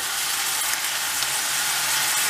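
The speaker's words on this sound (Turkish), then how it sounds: "gördüğünüz gibi kıymamız kızarmaya döndü" Minced meat frying in a pan with chopped tomato, a loud, constant crackling sizzle close up with no voices.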